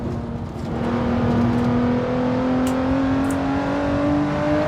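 A race car engine revs steadily on the Nordschleife in a racing simulator game, its tone climbing gradually as it holds a continuous, loud drone with no talking.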